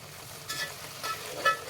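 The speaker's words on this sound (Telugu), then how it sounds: "బాగా వేగనివ్వాలండి" Mint and coriander leaves frying in hot oil for chicken pulav, a faint, soft sizzle with a few brief crackling bursts.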